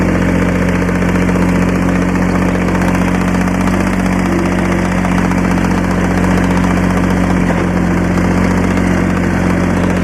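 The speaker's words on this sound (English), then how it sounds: "Gotta love a Kubota Diesel." A Kubota diesel engine runs steadily at idle on a Cub Cadet RZT50 mower, a loud, even, throbbing drone with constant vibration and no break from start to finish.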